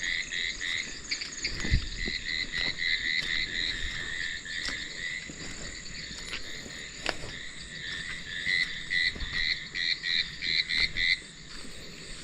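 Frogs croaking in a dense, steady chorus on a village night before rain, with insects or crickets trilling alongside; calls overlap continuously and hold at a moderate, even level throughout.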